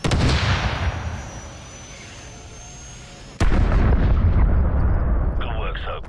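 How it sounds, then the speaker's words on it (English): A Stinger missile launches in a Call of Duty: Modern Warfare Remastered battle with a long roaring rush, then a sudden loud explosion that booms and rumbles on and off amid the din of combat. "So, grab another stinger and fire again."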